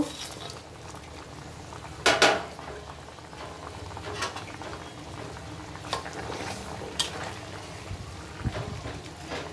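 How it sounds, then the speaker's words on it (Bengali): Fish curry made with pabda fish, potato and brinjal bubbles steadily in a pot, a soft continuous boiling patter with a few sharp metallic clinks of utensil against the pot. "দেখো সুন্দর করে মাছের ঝোলটা ফুটে উঠছে।"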